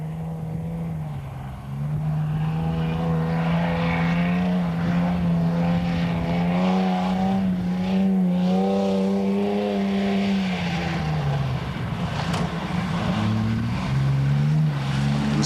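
A four-wheel-drive rally vehicle in a 1993 Welsh hill rally labours up a boggy hill, its engine droning loud and steady as the revs rise and fall.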